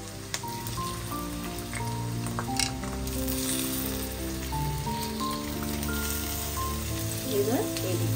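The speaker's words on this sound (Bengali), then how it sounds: "আমি যে সেদ্ধ করে রেখেছি সিমটা আর বিটটা দিয়ে দিচ্ছি" Boiled flat beans and beetroot are tipped into a pan of frying onions, setting off a continuous crackling sizzle with a faint steady tonal hum underneath.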